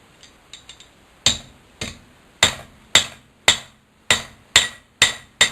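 A warm metal piece is hammered flat on an anvil: a few light taps, then a run of sharp, bright ringing blows at a steady, slightly irregular pace, close and loud, each with a short metallic ring.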